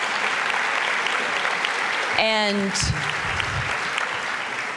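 Conference audience giving a round of applause at a mainstage session, steady sustained clapping throughout, with a brief spoken voice cutting in near the middle.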